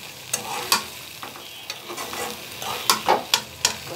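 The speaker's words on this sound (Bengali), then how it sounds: "কী করবো, সুন্দর করে কষাচ্ছি" Prawns and onions stir-fried in a pan for a prawn do pyaza, a soft sizzle punctuated by sharp, rhythmic scrapes and knocks of a spatula, growing busier toward the end.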